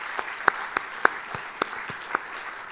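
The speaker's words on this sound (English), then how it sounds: "Est-ce que vous voulez bien l'applaudir" A handful of scattered, separate hand claps from an audience at the Ecobank Fintech Challenge 2023 grand finale, greeting Togolese minister Sina Lawson; about eight sharp claps ring out irregularly over a quiet room.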